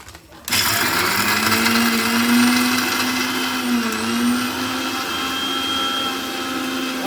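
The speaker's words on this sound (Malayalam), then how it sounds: "മിക്സി ഇട്ട് ജസ്റ്റ് ഒന്ന് പൊടിക്കാം." A kitchen mixer grinder (mixie) whirs into a loud, steady motorized grind right after a brief quiet start, holding a sustained hum with slight pitch wavers until the end.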